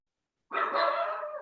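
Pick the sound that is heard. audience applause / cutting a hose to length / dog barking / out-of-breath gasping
dog barking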